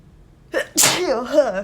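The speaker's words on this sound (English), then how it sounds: "I'm gonna sneeze." A single sharp, loud sneeze bursts out close by, preceded by a quick inhale and followed by a trailing voiced exhale.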